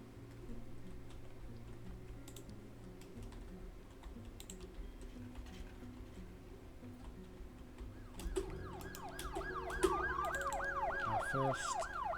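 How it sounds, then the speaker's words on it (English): Ambulance siren from the Project Hospital video game, a wailing rising-and-falling tone that enters partway through over steady computer keyboard typing and low background hum. "Our first patient by ambulance."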